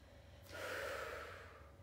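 A single sharp exhale during a Pilates mat exercise, a breathy rush of air that swells and then fades, close and alone in a quiet room.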